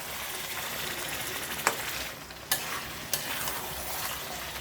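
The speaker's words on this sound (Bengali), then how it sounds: "এইভাবে মশলার সঙ্গে মাংসটাকে পুরো ভালো করে কষিয়ে নেবে বন্ধুরা" Meat stir-fried with spice paste in a pan, a steady close sizzle broken by a few sharp spatula scrapes and knocks against the pan, with no talking.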